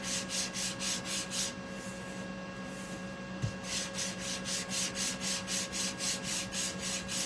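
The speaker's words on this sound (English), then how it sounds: "So I'm just going to go over this with my sandpaper." Sandpaper rubs back and forth over painted wood in a steady, even rhythm of soft rasping strokes, close up, pausing briefly midway with a small knock before resuming.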